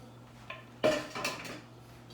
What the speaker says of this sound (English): You take your peaches, put it in your pan